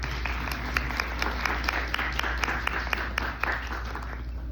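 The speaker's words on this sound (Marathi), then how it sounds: "सो आपण या सगळ्यांचं टाळ्या वाजवून स्वागत करूया" An audience at an Abhanga Vani devotional music program in Seattle claps in welcome, a steady patter of many hands with sharper individual claps popping out at a moderate distance, continuing evenly throughout.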